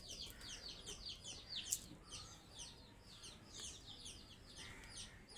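Faint bird chirps and flutters from pigeons gathering for food, soft and continuous over a low background murmur.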